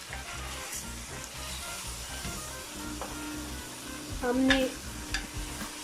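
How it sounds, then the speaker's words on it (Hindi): Beef trotters (paya) frying in a small pressure cooker give a steady close sizzle with stirring scrapes, while someone speaks briefly over it. "पायों को इसके अंदर थोड़ी देर भूनना है, भूनेंगे।"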